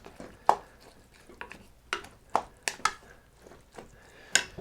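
Spoon stirring a pot of Tex-Mex rice with stock, a handful of sharp, separate scrapes and clinks spaced irregularly at close range, fairly quiet between strokes.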